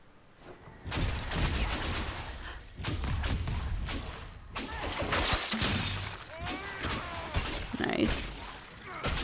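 Breakable objects shatter repeatedly in the fantasy game Dragon Age: Inquisition, a series of sharp crashing bursts with scattered debris thuds and a few whooshes, while a player talks throughout.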